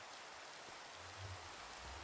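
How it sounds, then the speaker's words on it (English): Rain falls in the video game Minecraft as an even, steady wash of soft hiss without pauses or voices. "It's raining!"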